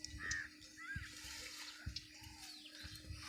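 Water gushes steadily from a newly drilled borewell fed by a 3 hp Shakti solar pump motor set 100 feet down. It makes a continuous, fairly faint outdoor rush, with crows cawing now and then.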